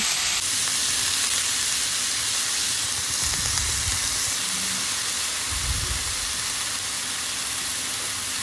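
Radish greens frying in a pan seasoned only with salt and turmeric, a steady broadband sizzle and hiss throughout with a few low thumps of stirring, no voices.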